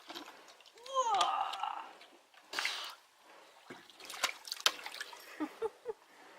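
A dog splashes in a shallow paddling bowl of water, giving a few short close splashes and sloshing bursts with quiet gaps between them, and someone speaks briefly nearby.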